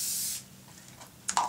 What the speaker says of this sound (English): I'm just going to do a quick spray all the way around